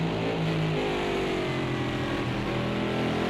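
A number 2 Porsche race car passes in a sim racing endurance event at Monza, its steady mid-pitched engine drone holding loud and continuous throughout with no voices.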